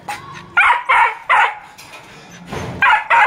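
A dog recovered from parvo barks in a quick series of sharp, close yaps, pausing briefly mid-way before another burst of several more barks.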